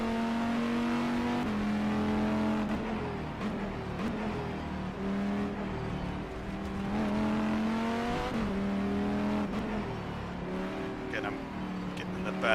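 A GTE race car at Sebring in rFactor 2: a revving engine climbs through the gears and drops in pitch for braking, repeating through the corners, while someone talks over it.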